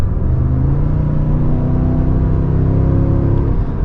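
A 2023 Cadillac Escalade's 6.2-liter GM V8 accelerating, a loud, steady engine drone with a rising harmonic pitch that holds throughout, close and continuous with no talking.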